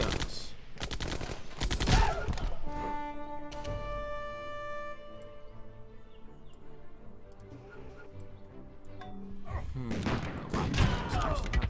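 Machine guns fire in a Civilization IV Realism Invictus battle, with dense rattling bursts at the start and end and a quieter tonal stretch between them, loud and close.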